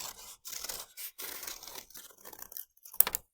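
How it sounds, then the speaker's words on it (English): Scissors snip shapes out of folded paper in a quiet room, a run of crisp, close cuts and tearing crinkles in short bursts, with one sharper snip near the end. "while it's still folded, I'm going to cut out these shapes that I just drew"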